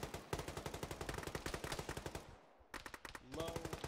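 Rapid automatic gunfire in Arma during a ShackTac squad assault on a tower, a fast steady stream of shots that briefly stops and then resumes, fairly close and sharp.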